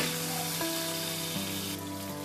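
Cauliflower and beetroot fry in hot oil in a pan while a vegetable dal is made for a festive meal, giving a steady, even sizzle that runs unbroken and fairly loud throughout.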